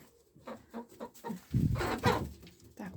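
Chickens cluck and squawk in a rapid series of short calls, fairly close, with a louder burst of flapping and agitated fowl noise midway as a rooster chases a hen.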